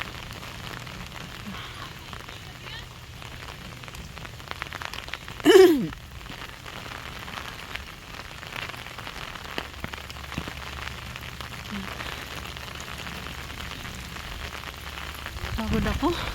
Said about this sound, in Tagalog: Hingal man mag-akyat, maulan. Sabi may bagyo, pero parang wala man, ulan lang.